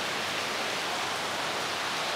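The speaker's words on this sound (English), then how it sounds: "it's been raining a lot for the last quite a few days" Heavy rain falling steadily, a dense, even hiss with no breaks or distinct drops, heard alone without voices.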